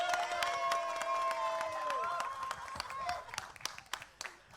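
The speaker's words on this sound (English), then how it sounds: "Let's have a huge round of applause for them as well." Applause from the audience at a trailer launch event, clapping and cheering with whoops that thin out into scattered claps, partly under loud music and talk.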